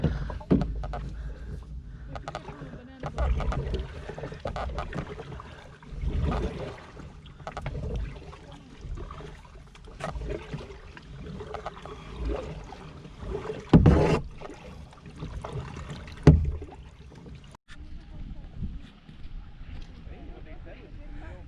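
A kayak glides on open water under a wind-buffeted microphone, with irregular paddle splashes and knocks against the hull and a person talking intermittently over the rumble.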